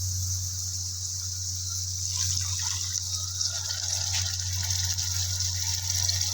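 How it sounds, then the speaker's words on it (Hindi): A glass of water is poured into a cooking pot of softened garlic and onion for a keema and gooler curry. The pour is a steady, close gush over a constant low hum. "1 गिलास पानी डालेंगे"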